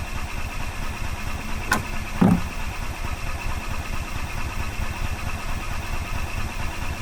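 A gas 2005 Club Car Precedent golf cart, sitting unused for five years, chugs with a steady, pulsing engine rhythm throughout, and a sharp mechanical clack partway through, with no choke applied.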